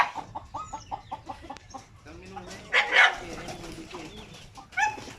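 Birds cluck and chirp close by in a busy, overlapping chorus, with a few louder calls breaking through and a voice talking underneath.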